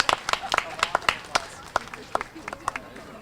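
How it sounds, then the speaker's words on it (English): Scattered hand claps ring out at an elementary school groundbreaking after a ukulele performance by students, a thin, uneven patter of individual claps rather than full applause. "Let's give one more round of applause for our rock stars of Warm Springs on their ukuleles."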